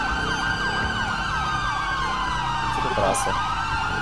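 Police sirens in the GTA 5 video game wail loudly and steadily throughout, several cars layered together in a city chase. Someone speaks briefly over the sirens near the end.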